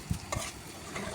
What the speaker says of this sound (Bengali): পেঁয়াজটা ব্রাউন কালার হওয়া পর্যন্ত ভাজবো